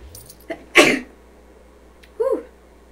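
A single sharp, loud human sneeze bursts out close to the listener, preceded by a brief inhale and followed by a short voiced exhale.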